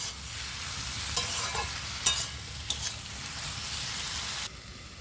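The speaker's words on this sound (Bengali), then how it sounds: "এই পাশে চিচিঙ্গাটা ভাজাতে থাক" Ridge gourd frying in a pan, a soft, steady sizzle with a few light scraping clicks from stirring, fairly quiet and close, with no one speaking.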